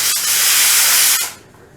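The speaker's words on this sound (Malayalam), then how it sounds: "1 സീറ്റി വന്നു." A pressure cooker cooking soaked dal lets out one loud, close hissing burst of steam from its whistle, holding strong for about a second before cutting off sharply into quiet.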